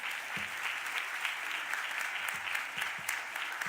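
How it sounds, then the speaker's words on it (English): Audience applause at a live civic event in Philadelphia, steady clapping from a crowd, moderately distant and even throughout. "Please give him a round of applause."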